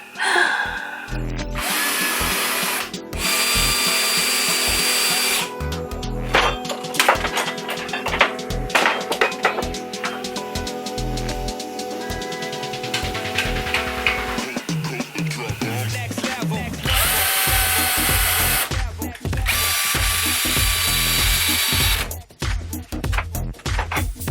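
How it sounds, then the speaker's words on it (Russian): A power drill drives two screws into wooden bars for a loft-style lamp, with repeated loud, close whirring runs that rise and fall in pitch, broken by short pauses and tool clicks. "Сейчас я это все буду скручивать 2 саморезами."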